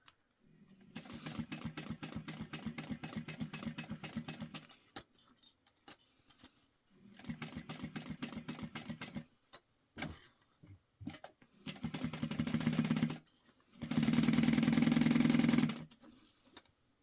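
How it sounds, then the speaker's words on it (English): A sewing machine stitching around a curved towel topper at stitch length 4: several runs of steady motorized whirring separated by pauses and small clicks, with the final run louder and more even. "So we're sewing all the way around, but leaving this flat part"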